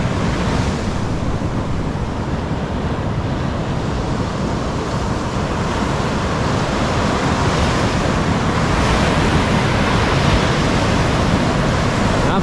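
Ocean waves at sea roar and wash continuously, loud and close, mixed with heavy wind buffeting the microphone, with no clear voices.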